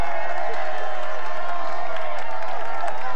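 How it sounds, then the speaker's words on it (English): A roadside crowd cheering along a mountain stage of the 2014 Tour de France, a continuous wash of cheers and clapping under a commentator's talk. "You hear the crowd."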